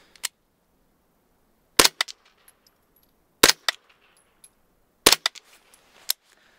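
Several suppressed gunshots through a Wolfman suppressor pop outdoors, four sharp cracks spaced over a few seconds, each trailed by a faint metallic rattle and brief echo, with no talking.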